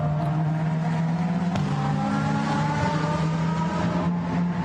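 Ferrari GT race cars, including the Kessel Racing 111 Ferrari, pass on the Barcelona circuit during a Blancpain GT Sports Club race, making a loud, continuous engine drone with steady harmonic tones and no talk.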